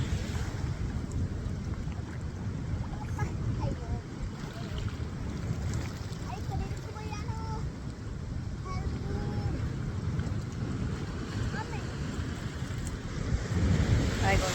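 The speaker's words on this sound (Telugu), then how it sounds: "ఒక పెద్ద వేవ్స్ వస్తాయి అలా చూస్తూ ఉండండి పెద్ద పెద్ద వేవ్స్ అయితే ఇటు బయటకు వచ్చేస్తాయి" Rumbling surf of sea waves crashing against rocks, loud and continuous, with wind buffeting the microphone.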